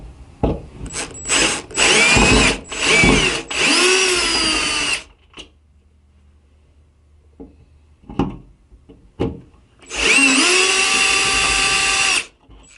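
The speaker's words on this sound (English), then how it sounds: "we're going to remove the mechanism by taking these screws out." A power drill backs screws out of a Mov-a-bolt mechanism in several short whirring bursts, each rising in pitch, with quiet gaps and light handling noise between them and a longer final run.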